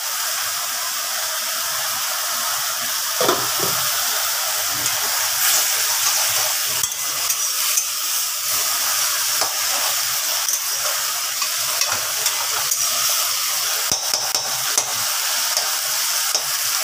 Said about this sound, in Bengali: আর এর সাথে আমি অবভিয়াসলি সবজিগুলো মিশিয়ে দেব